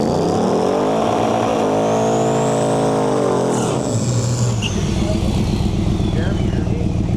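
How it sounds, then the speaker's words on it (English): A 1976 Corvette and a big diesel truck launch down a drag strip, engines roaring loud and close as revs climb and shift, with a commentator talking over the noise. "We got a big diesel truck far side of the track and a 76 Corvette in"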